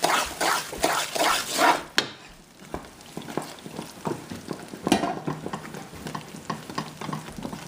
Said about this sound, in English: And you want to keep on stirring that so you don't burn that.